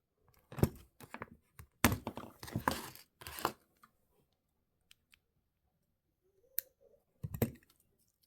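Cutting thin jewellery wire for a two-stone moon pendant: several sharp close snips and clicks in irregular bursts, with small handling taps and quiet gaps between them.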